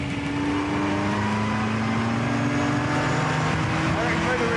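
A 1959 Cooper Climax race car driven around a track, its engine a steady, loud drone heard from on board, with someone talking over the noise throughout.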